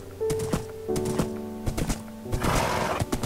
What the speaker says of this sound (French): On va prendre notre cheval. Au galop.